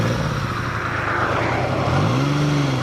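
A 1980 Yamaha XS850 Special motorcycle engine runs at a loud, steady drone, then its pitch climbs and falls in a brief rev near the end, heard up close with no talking.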